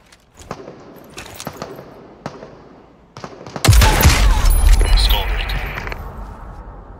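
Gunfire in the Super People battle royale game: scattered sharp cracks at first, then a loud, sustained rolling barrage of shots with voices heard underneath.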